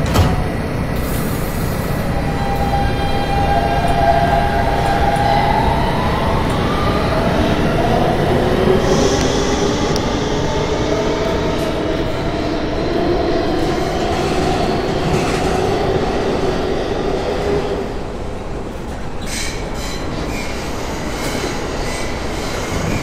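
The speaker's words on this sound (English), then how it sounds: "This is a Queensbound G train." A Kawasaki R160B Siemens subway train on the G line runs through a Roblox game, with steady loud rolling rumble, clickety-clack of wheels and faint squealing tones throughout, fading slightly near the end.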